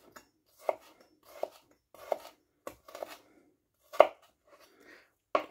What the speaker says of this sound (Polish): Od razu drobno posiekamy imbir